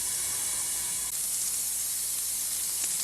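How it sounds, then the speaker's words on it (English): Water runs from a scrub sink tap in a surgical scrub area, a constant close hiss of flowing spray that continues without a break. "Adjust the water to a comfortable temperature and flow to prevent spraying of the scrub attire."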